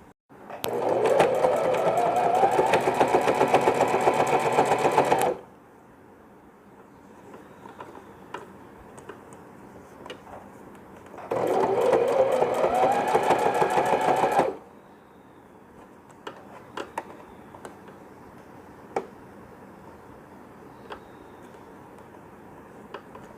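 A sewing machine stitches pieces of stretchy banian cloth for a newborn's ear-covering cap, two sustained bursts of fast, steady whirring separated by quieter handling clicks, close and fairly loud.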